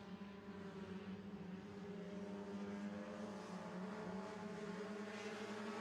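A pack of four-cylinder stock cars lapping a speedway during a heat race, producing a steady, moderately faint engine drone that holds without a break.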